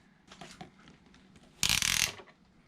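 A clamp is fastened onto PEX water pipe with a few faint clicks, then one sharp, loud ratcheting crunch of under half a second.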